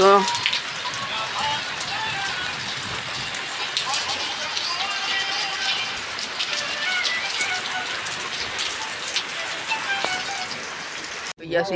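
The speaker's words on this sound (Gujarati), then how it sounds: "અત્યારે તો વરસાદ વરસાદ શરૂ થઈ ગયો છે" Rain falls steadily as dense, close pattering on surfaces, a continuous hiss that lasts the whole stretch while people talk under it.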